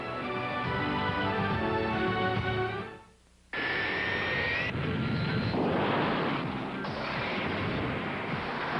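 A loud airplane engine roars, drops briefly to near silence, then a jet rushes past with a rising whine and heavy broadband rumble.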